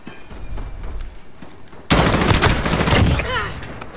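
A Holger gun fires in Modern Warfare, starting abruptly in a loud, sustained burst of rapid automatic shots that continues to the end, preceded by quieter in-game ambience.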